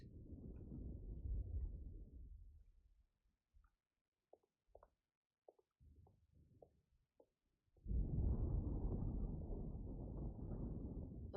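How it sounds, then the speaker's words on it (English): Thunder from an approaching storm in the Alone in the Dark video game rolls in two long, loud rumbling swells, with a quieter stretch of scattered small knocks and crackles between them. "Looks like a storm's coming."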